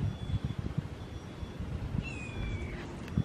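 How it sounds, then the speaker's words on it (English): A cat meows faintly in the distance outdoors near a treehouse, one drawn-out falling call under low rumbling handling noise and background hum, with no talk over it. "I heard a cat."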